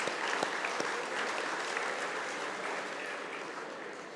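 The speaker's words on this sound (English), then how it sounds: "So a round of applause for Louis." Audience applause at a horticulture industry gala dinner, a dense steady patter of many hands clapping close by for about four seconds, holding strong before easing slightly toward the end, with no talk over it.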